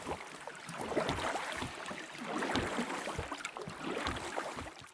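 A small boat is rowed on Loch Lubnaig in December, with soft rhythmic splashes and water swishing close by, over light wind. No one speaks.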